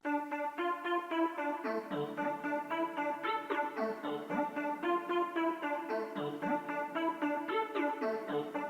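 Celestial preset on the Citrus synth plugin plays a bright, shimmering counter melody in a mellow amapiano style, with steady rhythmic chord stabs and plucked notes repeating over sustained harmonic layers, clear and alone.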